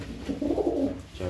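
A pigeon coos nearby, one short, soft rolling call followed by a faint second phrase, alone and quiet.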